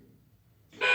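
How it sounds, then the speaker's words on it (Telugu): A battery-operated mini electric toy car sounds its horn in a short, loud electronic blare that comes in abruptly at the very end, after a faint low hum. "ఈ సౌండ్ హార్న్"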